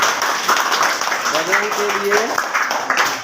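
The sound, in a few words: children clapping for a classmate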